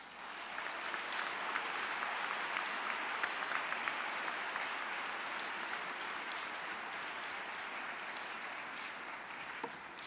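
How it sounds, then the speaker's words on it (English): A commencement ceremony audience claps steadily for about ten seconds, a dense, even wash of many hands heard from within the hall, with no voices on top. "Class, please join me in a round of applause for these very special people in your lives."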